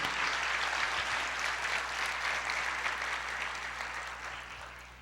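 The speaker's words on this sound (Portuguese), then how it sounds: "Pode aplaudir ao Senhor, porque é Ele quem derrama esse amor na sua vida" Congregation applauding in church, a dense, continuous wash of clapping that stays steady and gradually fades a little toward the end, with no voices over it.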